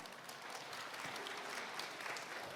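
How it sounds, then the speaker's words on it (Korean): An audience at a Seoul money show lecture welcomes a real estate investment speaker with faint, distant, even applause, a steady patter of many hands heard for a couple of seconds. "여러분 힘찬 박수로 맞이해 주시기 바랍니다"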